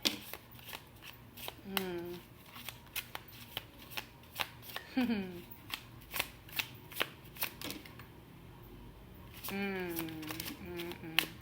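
A tarot card deck is shuffled close up in a steady series of crisp riffling snaps and taps, while a voice talks intermittently over it.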